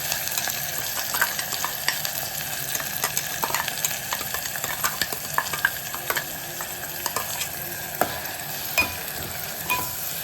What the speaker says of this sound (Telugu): మిక్సీ పట్టిందంట దీనిలో వేసేసి కొంచెం సేపు వేయించుతానండి